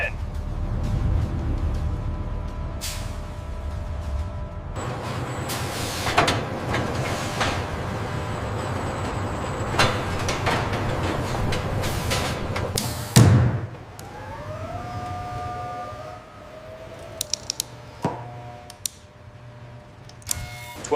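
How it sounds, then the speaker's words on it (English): Heavy doors open inside a 24K gold factory building Ford F-150 King Ranch trucks, heard as loud industrial rumbling and clattering, then a sharp slam and metallic whirring tones, with a strong echo throughout. "Doors are open."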